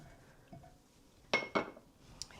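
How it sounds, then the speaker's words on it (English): Spoon scraping and clinking against a bowl as peanuts are stirred into hot sugar and corn syrup for microwave peanut brittle, a few brief, close clinks and scrapes with quiet gaps between. "So just give that a light stir."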